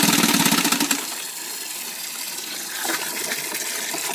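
A 1957 Johnson 18hp outboard motor, model FD-11, runs with its lower unit in a water tank, a loud rapid putter at first that drops into a churning, splashing water rush, with no voices.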